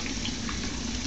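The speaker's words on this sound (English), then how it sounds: "you take this hot water, hot as you can get it, fill up a container" Hot water pours into a one-gallon thermos, a short, dense, steady rush of liquid heard close up with no talking.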